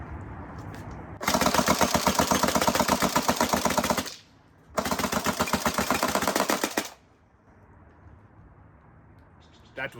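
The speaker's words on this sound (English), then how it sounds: "that is my unboxing and firing test of the Tokyo Marui AA-12" Tokyo Marui AA-12 electric airsoft shotgun on full auto, two long rapid bursts of mechanical firing separated by a short gap, loud and close over quiet room tone.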